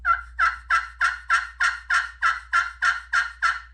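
A hand-operated turkey call imitates a turkey with a steady run of about a dozen loud, evenly spaced notes, each a sharp bird-like burst repeating roughly every third of a second, close and alone with no talking.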